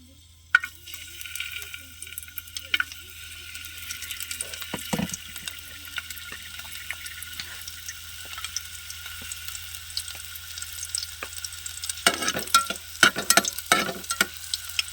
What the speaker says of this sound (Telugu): నూనె అయితే కాగిపోయిందండి చూడండి తెల్లవాయిలు అయితే వేస్తానండి